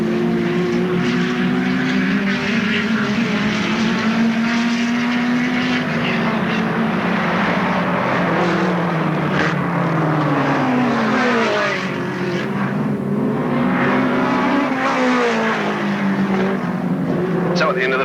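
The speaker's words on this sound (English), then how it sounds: "The hot rods are now underway." Hot rod race cars roar around Alwalton Raceway in 1983, a dense pack of engines droning loudly and continuously with rising and falling pitch sweeps as cars pass, a commentator's voice running over the racket.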